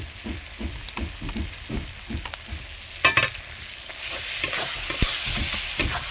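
Chicken fries with chilli, spices and ginger paste in a rural Bengali home kitchen for chicken kosha. Close, steady sizzling runs under repeated stirring scrapes and clinks, with a brief louder clatter midway and no talking.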